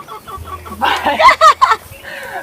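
Chickens cluck close by in a short burst of several loud, choppy calls over a faint low hum.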